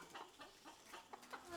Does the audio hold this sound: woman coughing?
no